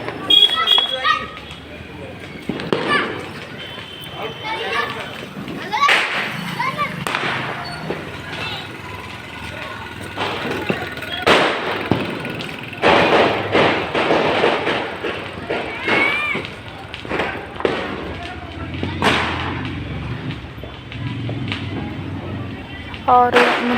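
Firecrackers burst during Diwali celebrations at a family home, sharp cracks and pops scattered irregularly throughout, some loud and close, others fainter, with people talking over them.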